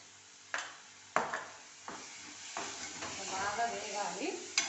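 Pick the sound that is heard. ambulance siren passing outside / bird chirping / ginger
ginger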